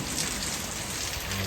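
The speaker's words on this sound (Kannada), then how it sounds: "ಮಾತ್ರ ಹೆವಿ ಮಳೆ ಬರ್ತಾ ಇದೆ. ಗಾಳಿ ಮಳೆ" Heavy rain driven by wind pours down steadily, a dense, even hiss of drops drumming on surfaces that stays loud and unbroken with no voices.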